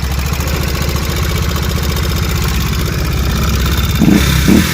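A nearby motorcycle engine runs loud and steady, rising in two short bursts of revving toward the end, with no talking.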